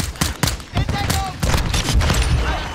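A series of sharp gunshots in a Call of Duty: Modern Warfare II multiplayer match crack in uneven bursts, loud and close, with a voice talking among them.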